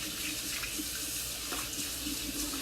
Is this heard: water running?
yes